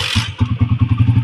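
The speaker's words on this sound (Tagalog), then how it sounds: "nagmi-minor yung motor ni boss. Idle pa lang yan ha." A motorcycle engine with a stator charging fault idles close by with a fast, even thumping rhythm, loud and alone.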